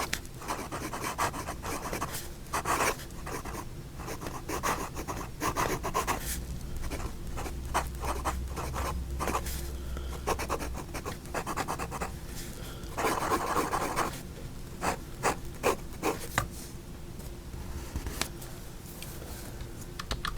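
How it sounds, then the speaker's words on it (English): A vintage Parker Duofold fountain pen nib scratches and glides across paper in close, continuous strokes with brief pauses, a dry rasping texture and no voices. "But let's see how this nib writes."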